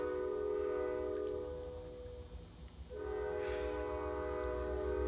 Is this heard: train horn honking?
yes